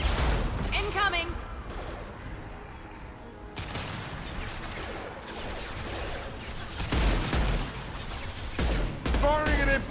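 Gunfire in Mass Effect 2 comes in repeated loud bursts of shots and impacts, with short lulls in between. Voices speak now and then among the shots.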